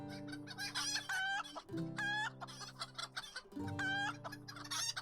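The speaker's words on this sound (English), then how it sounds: "So many chicken sounds." Chickens in a video game cluck and crow loudly, with two long rooster crows near the middle and end standing out over steady close clucking.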